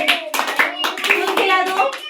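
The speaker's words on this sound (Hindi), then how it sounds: "चलो ताली बजा दो सभी" Children clap their hands together in a classroom activity, a burst of uneven, overlapping claps close by lasting a couple of seconds with no voices over it.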